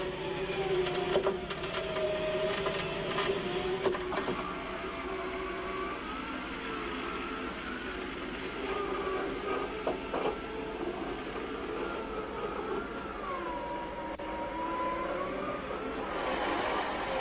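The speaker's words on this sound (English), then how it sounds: "Keep checking that the cable is being wound up cleanly" An off-road vehicle winch hums and whines steadily as it winds its cable, with a high mechanical tone, a few clicks and clunks, and rising and falling pitch as the load shifts, fairly quiet and without voices.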